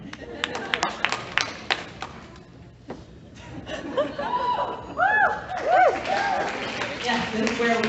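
Scattered audience clapping at a business achievement awards ceremony, a handful of light claps under murmuring and chatter, with a voice speaking over it in the second half.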